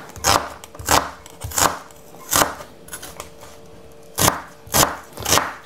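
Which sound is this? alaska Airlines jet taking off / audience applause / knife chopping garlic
knife chopping garlic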